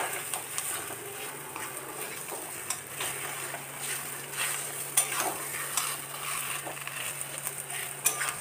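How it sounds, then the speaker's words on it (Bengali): Boiled potatoes fry gently in oil in a pan during village-style Bengali cooking, giving a steady soft sizzle with faint stirring clicks and scrapes throughout, no voices. "এবার আস্তে আস্তে লাল করে একটু একটু হালকাভাবে ভাজতে হবে"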